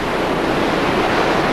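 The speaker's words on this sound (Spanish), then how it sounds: "¿Cómo calmar el sonido de este río?" A river rushes past in a dense, steady roar of moving water, loud and unbroken, with no voices.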